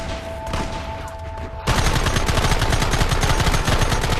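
Heavy gunfire from a shootout in the video game Red Dead Redemption, a dense, continuous barrage of overlapping loud shots that erupts suddenly after a quieter moment and keeps rattling without pause.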